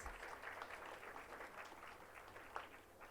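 An audience at a student literature festival claps continuously, a fairly quiet, dense wash of applause with no talking over it.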